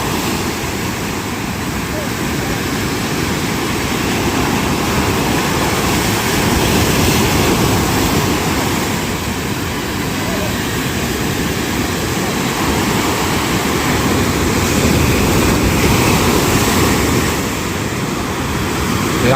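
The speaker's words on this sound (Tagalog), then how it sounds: "Laki ng alon" Large sea waves surge and churn continuously at sea, a heavy broadband roar of surf with wind buffeting the microphone, steady and loud throughout the clip.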